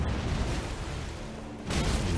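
A sword skill sets off an explosion in Elden Ring: a steady, roaring wash of noise carries on, then surges into a louder, harsher blast near the end.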